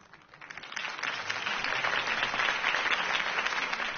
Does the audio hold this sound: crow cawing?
no